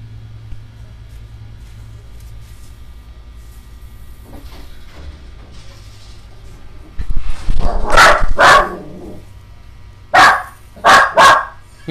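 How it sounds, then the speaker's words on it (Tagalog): A dog barks in sharp bursts: a tight pair of loud barks midway, then three more in quick succession near the end, over a quiet room with faint background noise and no talk. "Tumataol yung aso."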